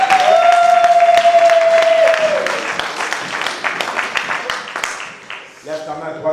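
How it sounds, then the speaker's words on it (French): A church congregation applauds and cheers loudly in a large worship hall. The clapping and voices are dense and steady at first, with a sustained tone underneath, then they thin out toward the end as the crowd settles. "Est-ce qu'on peut acclamer les Seigneurs?"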